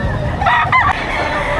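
A single rooster lets out one brief crow at a livestock auction market in Padre Garcia, Batangas, in the early morning, rising over a steady low rumble of crowd noise.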